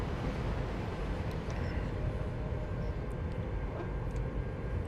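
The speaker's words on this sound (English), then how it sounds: "Oh, look, this is one of the freight trains we passed." A freight train in the Train Sim World 5 game roars past close by, a steady, loud, dense rumble with no break and no voices for the whole stretch.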